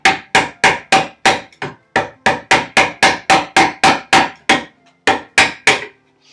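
A hammer drives a chisel into stone while shaping a treadle stone well, a close, loud run of about twenty sharp strikes in a steady rhythm, with a few brief pauses.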